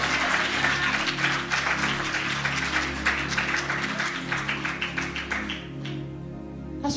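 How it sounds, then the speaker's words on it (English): Steady crowd applause at a church revival meeting in Los Angeles, dense clapping from many hands that thins slightly toward the end, at a moderate distance. "I better give Jesus a big round of applause."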